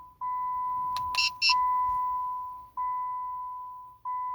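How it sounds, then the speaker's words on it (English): Several electronic beeps from a 2008-2010 Chrysler PT Cruiser confirming key fob programming: a long steady tone broken by short chirps, then two more sustained beeps, with faint background hum. "wait for a few seconds until you hear the beeping sound indicating programming is successful"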